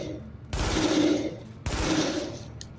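Two loud gunshots fired in The Division PvP combat, each a sharp blast with a lingering ringing tail, about a second apart, with no talk over them.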